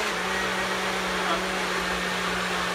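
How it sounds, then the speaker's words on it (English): Kitchen blender running continuously as it mixes ingredients, a loud steady motorized whir with a constant hum and no breaks. "Trying to let it all mix up here in the blender."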